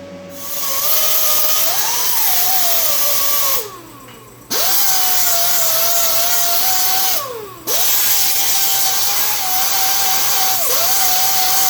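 An angle grinder grinding down welds, a loud high whine that holds steady, drops in pitch as the disc bites, then cuts out twice before spinning back up.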